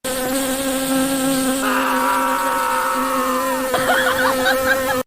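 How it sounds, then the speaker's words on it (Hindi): Steady, continuous buzzing of flies swarming around mangoes in a cartoon, loud and close throughout, with the drone rising and wavering in pitch partway through as the insects move. "ये सारी मक्खियाँ बहुत तंग करती हैं।"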